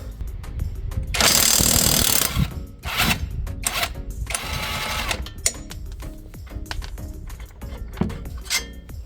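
A power wrench tightens a bolt to 110 Nm during a front and rear coil spring and shock absorber replacement, a loud buzzing impact burst followed by shorter mechanical whirs and clicks nearby.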